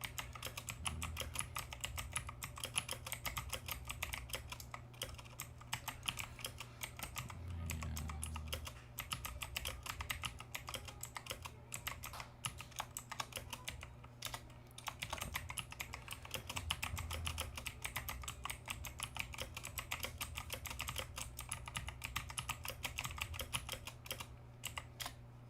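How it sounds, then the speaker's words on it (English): Rapid, continuous clatter of fast typing on a computer keyboard, dense quick key taps close and fairly quiet, steady throughout with a faint background hum. "I'm trying to get faster typing speeds"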